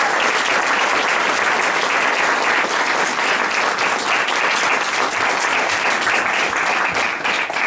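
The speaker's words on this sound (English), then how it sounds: "Let's give them a nice round of applause." Sustained, dense applause from an audience at a literary reading event honoring writing contest winners, steady and loud throughout without talk.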